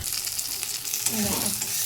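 Steady, close sizzling of ginger and garlic frying in a pan, with a brief stirring scrape partway through.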